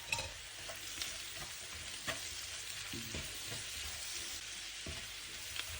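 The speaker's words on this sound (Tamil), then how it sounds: "மிளகாய் வதங்கி கொண்டு இருக்குது." Chopped capsicum sautéing in a pan, a soft steady sizzle with occasional scrapes and stirring knocks, fairly quiet and continuous with no voices.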